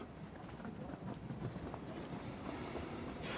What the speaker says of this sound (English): I mean the train, Charles.